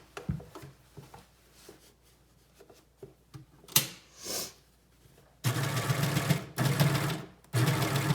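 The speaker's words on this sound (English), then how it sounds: "I can just go and reinforce that stitch in that one area" A sewing machine reinforces a stitch on the fabric neck band of a bomber jacket. Soft handling noise comes first, then three loud, close bursts of steady mechanical stitching separated by brief pauses.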